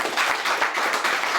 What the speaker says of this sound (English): I think another round of applause for John Baker